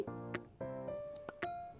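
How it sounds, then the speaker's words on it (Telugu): A lid is set onto a cooking pot of fenugreek-seed pulusu, giving a few close, bright metallic clinks with a short ringing decay. "ఇలా బాగా కలిపిన తర్వాత ఒకసారి మూత పెట్టేసుకుందామండి"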